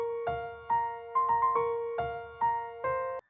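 A simple UK drill chord melody built in FL Studio plays as a sparse sequence of sustained synth chords, each struck note fading before the next arrives in an uneven, spaced rhythm.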